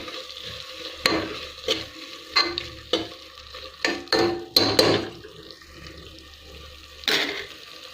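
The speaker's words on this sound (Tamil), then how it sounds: "ஒரு கைப்பிடி புதினா இலைகள், ஒரு கைப்பிடி கொத்தமல்லி இலைகள் போட்டு நல்லா கிளறி விட்டுக்கலாம்" Mint and coriander leaves are stirred into a sizzling pan of meal maker biryani, with a spoon scraping and turning the mix in a series of uneven strokes over a steady, soft frying hiss.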